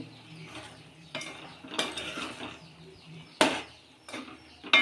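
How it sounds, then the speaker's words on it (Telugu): A spoon or ladle stirs bottle gourd and mutton tripe curry in a metal pot, giving a few scraping, clinking strokes with soft bubbling between them. The sounds are close and moderately quiet, with no talking. "ఇప్పుడు కలుపుకుందామండి"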